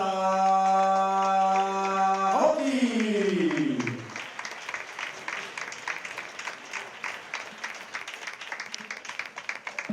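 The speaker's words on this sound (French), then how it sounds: "Merci d'applaudir également Farshad Gardakale." Fight crowd at an Evolve MMA event clapping after the unanimous-decision result, sustained scattered applause rising as a loud sustained tone and announcer's voice fade away.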